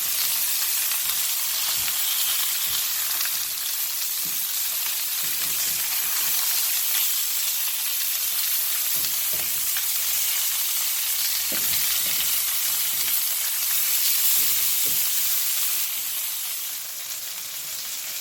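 Chicken thighs sizzle loudly and steadily in a pan right after being flipped, a dense continuous fry with occasional soft pops and no voices over it.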